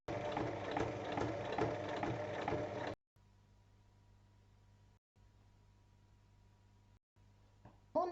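A sewing machine runs fast, stitching a fabric makeup pouch in one dense mechanical burst of about three seconds, then stops and leaves near silence with a faint low hum.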